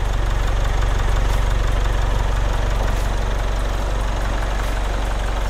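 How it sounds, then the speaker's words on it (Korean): A Jaguar XE 20d Prestige diesel engine idles with the bonnet open, a close, steady, even rumble with a faint rhythmic clatter, running alone without voices. "엔진 소리 일정하고요"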